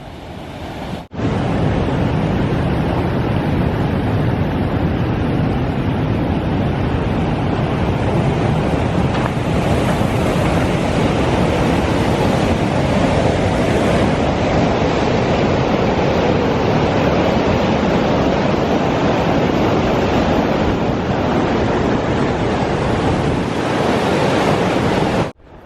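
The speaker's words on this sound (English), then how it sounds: "I know I've featured a lot of waterfalls in this video, but that's awesome." A waterfall on the Pacific Crest Trail in the Sierra roars as a loud, steady, broadband rush that stays constant throughout, with wind buffeting the microphone.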